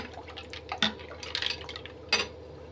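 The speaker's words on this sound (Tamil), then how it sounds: "இப்படி டம்ளரில் ஊற்றி கொடுங்கங்க" Almond gum kheer chilled with ice cubes is poured into a tumbler, giving soft liquid splashes and trickles broken by a few sharp clinks of ice or glass, quiet and close, with no speech.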